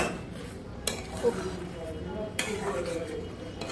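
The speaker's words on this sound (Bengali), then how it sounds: "কখন থেকে নেড়ে যাচ্ছি কখন থেকে নেড়ে যাচ্ছি শেষ আর হচ্ছে না" A spoon stirs a thickening sandesh mixture in a pan, with a couple of sharp scrapes and clinks against the metal over a low steady background while someone talks.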